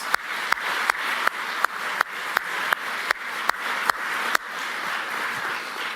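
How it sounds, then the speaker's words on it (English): A room of people applauds veterans in the audience at a U.S. news event, steady clapping layered with a row of sharp, evenly spaced loud hits roughly every half second, like a louder rhythmic clap near the mic. "Let's give those guys a round of applause."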